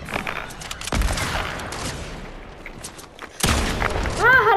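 Gunfire in Fortnite during a red-versus-blue team match: a few sharp shots and heavier bursts scattered through a noisy game mix, with some voice chatter near the end.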